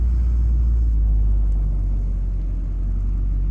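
A 6.6 Duramax diesel truck engine idles high on a cold start with weak charging voltage, a steady, deep low rumble that stays loud and even throughout with no voices.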